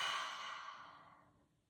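A single forceful exhale pushed out through the mouth during a guided breathing exercise, a close, airy rush that fades steadily over under two seconds, heard alone.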